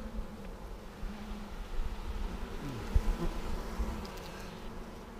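Honey bees buzzing around an open hive in a bee yard, a dense continuous low drone with individual bees passing close by, steady and moderately loud.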